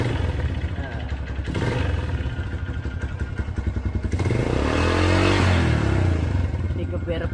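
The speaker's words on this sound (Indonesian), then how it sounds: "suaranya itu masih halus-halus khas Yamaha" A 2005 Yamaha Jupiter MX motorcycle engine revs up, a steady smooth drone that swells louder near the end, with someone talking over it.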